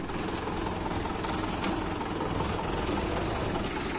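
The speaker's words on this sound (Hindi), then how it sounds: "ट्रैक्टर आ रहा है अभी" A tractor approaches across a farm field where a plough has sunk into the soil, its engine a loud, steady rumbling drone that stays continuous throughout with no voices.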